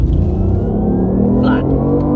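Car engine rising steadily as it speeds up to pass a bus, a loud continuous low rumble with a climbing tone throughout, close and in-cabin.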